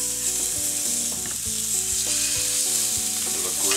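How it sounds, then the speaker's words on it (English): Pieces of freshly caught Atlantic bonito sizzling in a hot pan just after flipping, a loud, steady, close frying hiss over background music. "so I'm gonna go ahead and just flip those."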